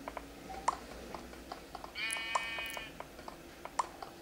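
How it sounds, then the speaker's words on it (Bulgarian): A sheep bleats once in Minecraft PE on an island map, a short wavering electronic-sounding bleat in the middle of faint game ambience and scattered soft clicks, no speech. "Чувам овца навън."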